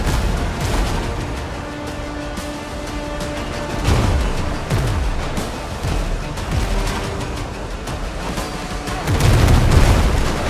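Cannon fire booms from a brig at sea in the pirate game Windrose, heavy low thuds recurring through the clip with a big cluster of blasts near the end over steady ocean and ship ambience.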